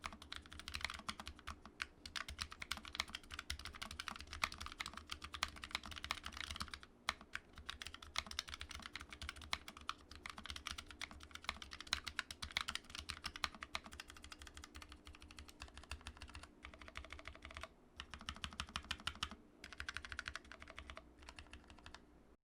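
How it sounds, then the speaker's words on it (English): Fast, steady typing on a Fnatic Streak 65 keyboard, dense overlapping keystroke clicks running continuously with brief pauses, close and clear with no talking. "here is a quick sound test."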